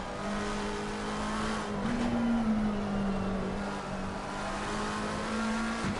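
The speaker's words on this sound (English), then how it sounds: "Down through the gears, and went into second for turn 9." Race car engine in Assetto Corsa Competizione at Paul Ricard, droning loud and steady, with pitch dipping and rising as it shifts down through the gears into a corner.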